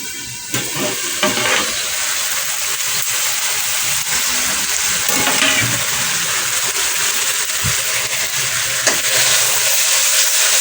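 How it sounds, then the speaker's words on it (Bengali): Spice paste for a gourd and potato curry sizzles steadily in a pan, a continuous frying hiss with occasional stirring scrapes, close and fairly loud, no talking. "মশলা কষছি এখন এই যে লাউ আলু মশলাটা করছি"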